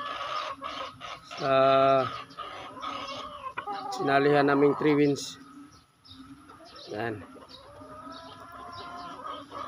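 Chickens cluck and a rooster-like call rises in short bursts nearby, with someone talking between the bird sounds.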